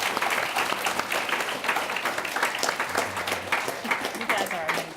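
An audience at an elementary youth forum applauds a panel of young speakers, giving brisk, continuous clapping up close with scattered voices and cheers mixed in.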